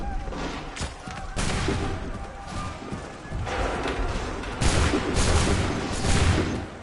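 In Assassin's Creed 3, a volley of muskets fires in repeated loud, crackling bursts over a noisy battlefield, with heavy thuds and rumbling between shots.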